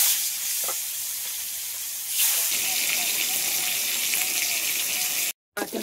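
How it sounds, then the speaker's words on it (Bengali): Snakehead fish fry in hot oil in a kadai, a loud continuous sizzle that jumps in intensity as more pieces hit the oil, with a brief cut near the end. "বাকি মাছগুলো ভেজে নেব।"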